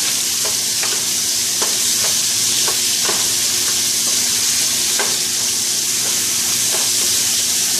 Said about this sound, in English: you want to cook this beef pretty much all the way. At least just get it brown